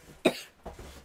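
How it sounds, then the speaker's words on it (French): A single sharp cough close by, followed by a softer, breathy second cough a moment later. "Tu vois, il s'excite pis il tousse."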